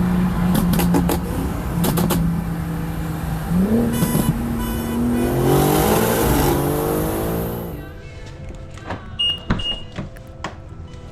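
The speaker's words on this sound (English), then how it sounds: "Cold start after about 2 weeks of sitting." A BMW G82 M4 engine with an 850 hp tune, xDrive, cold-started after two weeks of sitting: starter crank, a loud flare that rises in pitch, then settling to a high idle, close and alone.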